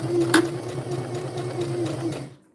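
Sewing machine stitching labels onto dress pockets, a steady close mechanical whir with a faint tonal hum and one brief sharper clack near the start, running for a couple of seconds before stopping.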